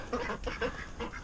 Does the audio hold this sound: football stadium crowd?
no